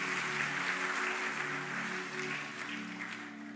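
A church congregation at a GBI Lippo Cikarang service claps together in a steady, continuous wash of applause at moderate volume, holding evenly from start to finish.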